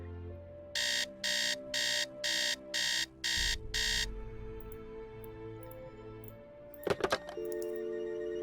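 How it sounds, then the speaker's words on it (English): An alarm clock rings in the Nancy Drew game Secret of the Scarlet Hand: seven evenly spaced, loud electronic beeps, then a low hum and a brief clatter over a soft background tone. "And alarm, and then you can set it to whatever time you want to get up."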